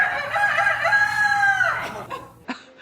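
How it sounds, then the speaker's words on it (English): Nearby, a rooster at a long-running diner in South Central Los Angeles gives one loud, full crow that trails off. A couple of short clucks or rustles follow, with no talking. "If it's not the rooster crowing, he has something else that he'll do."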